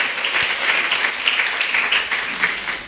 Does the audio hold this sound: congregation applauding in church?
yes